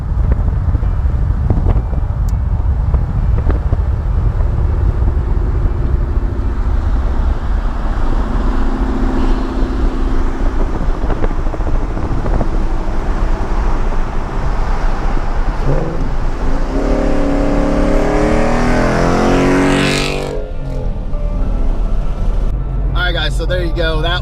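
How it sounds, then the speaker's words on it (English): A turbocharged Coyote V8 Ford Mustang S197 with a 6-speed accelerates hard, heard from inside as a loud, sustained engine roar under heavy wind and road noise. Excited voices rise over it near the end. "Turbo Coyote pulls all day."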